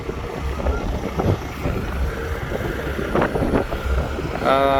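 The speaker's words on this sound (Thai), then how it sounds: "ลมแรงหน่อย" Strong wind buffets the microphone outdoors near a new vehicle, a steady rough roar lasting throughout, with a voice faintly underneath.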